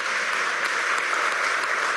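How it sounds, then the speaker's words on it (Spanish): An audience at a sociopolitical gathering claps, giving a dense, even wash of applause that stays loud and steady throughout. "Quiero que le demos un aplauso"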